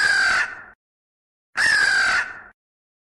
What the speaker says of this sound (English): A crow caws.